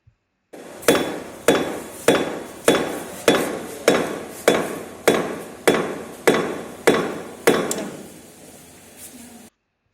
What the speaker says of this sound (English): Next slide is about slam test mortar.